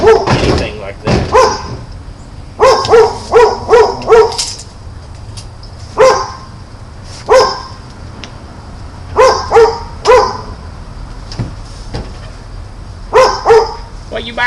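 A dog barks in repeated bursts of several quick barks separated by pauses, loud and close.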